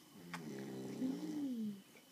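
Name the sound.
loud snoring of a grandfather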